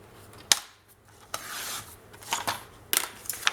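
Scissors cut through paper card for a scrapbooking page in a Stamperia Garden album, giving several crisp, close snips and rasping slices spread across a few seconds in a quiet room.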